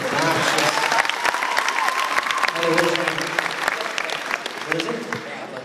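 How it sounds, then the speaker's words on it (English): An audience at a high school after-prom hypnosis show breaks into loud, sustained applause, dense clapping filling the room from start to finish with voices and a brief call from the stage mixed in. "Give a big applause."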